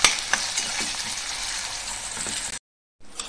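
Onion sautés in a hot pan, a bright continuous sizzle with occasional stirring clatter, cutting off briefly into silence before the frying resumes.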